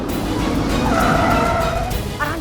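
A car slows down on a road and brakes to a stop, its engine rumbling under a sustained tire or brake squeal that fades as it halts, heard fairly close.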